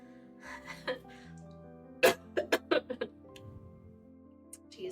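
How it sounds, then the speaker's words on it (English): During a live drawing stream, a person lets out a burst of several harsh coughs in quick succession, preceded by breathy vocal sounds and followed by a few softer throat noises, close to the microphone. "I'm just gonna cough my head off now."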